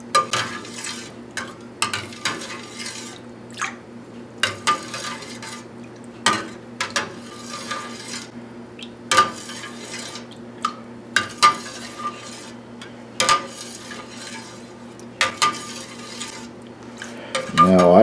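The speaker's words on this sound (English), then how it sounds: "so I'll do some stirring here" Milk with buttermilk culture stirred in a pot for triple creme cheese, with soft irregular scrapes and clinks of a utensil against the pot over a steady low hum, no talking.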